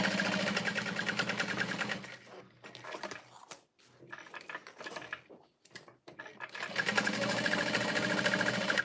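A sewing machine stitches a small crossbody bag in bursts, its fast mechanical whir running steadily, dropping out in short pauses mid-clip, then resuming strongly and close by.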